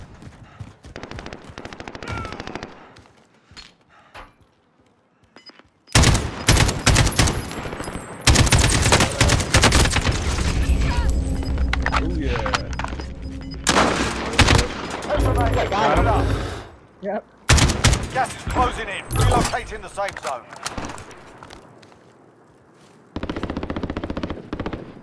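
Dense bursts of automatic gunfire and scattered single shots in the Warzone battle royale game, loud and near, coming in long stretches separated by brief quieter gaps.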